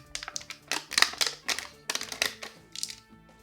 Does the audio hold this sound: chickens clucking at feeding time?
no